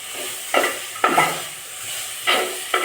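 A spoon stirs okra frying with chili powder in a pan, giving four quick scraping strokes over a soft, steady sizzle, close by and without talk.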